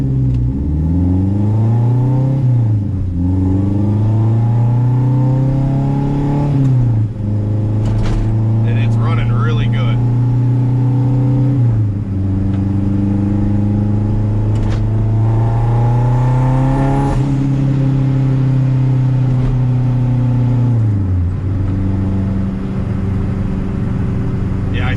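A 500HP turbo K24 engine car pulls hard on the street, loud and close, revving up through several gears in repeated rising sweeps, each cut by a brief drop at the shift, with a faint voice under it.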